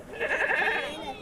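A single goat bleats with a wavering, nasal cry lasting about a second, heard close and fairly loud at a rural livestock market in Dubbaka, Siddipet district.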